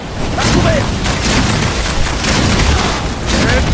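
In the video game Evolve, a grenade bursts with booming, crackling blasts amid a flurry of gunfire-like impacts, loud and close, while players talk over the action.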